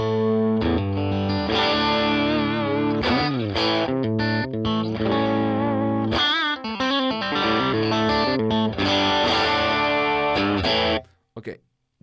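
Dry electric guitar played through an amp and cabinet model on a Fractal unit, with no reverb or impulse response, ringing out loud and sustained chords and notes for about eleven seconds before stopping abruptly.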